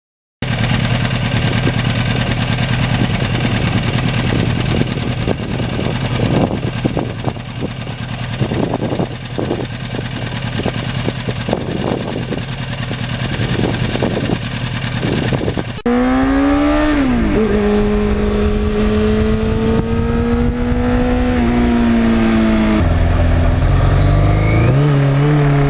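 A 1991 Yamaha FZR1000 sport motorcycle, restored, runs loud and close, its engine idling roughly before climbing through several steady revs with rising and falling pitch, continuous throughout.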